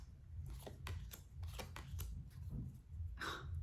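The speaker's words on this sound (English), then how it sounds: "I will do one last quick shuffle" A deck of tarot cards being given a quick shuffle, a run of crisp riffling flicks and soft slaps close up and fairly quiet, with no talking.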